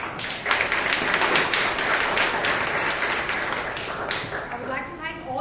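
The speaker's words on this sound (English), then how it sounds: "Let's give a huge round of applause." Sustained applause from a Toastmasters club meeting audience in Bangalore, dense overlapping clapping at steady loudness for several seconds with a murmur of voices mixed in, thinning slightly near the end.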